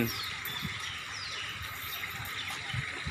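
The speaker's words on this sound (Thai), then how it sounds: "น้ำตกจำลองอะ" Steady splashing and trickling of water from an artificial waterfall at a Thai temple, a continuous moderate wash of sound with faint background noise.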